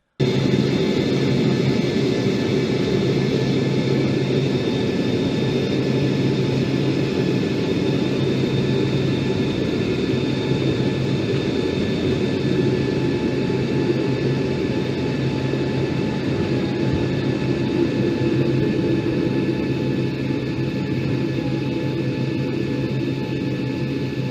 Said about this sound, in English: a loud noise arrived from the sky as a private jet descended and landed nearby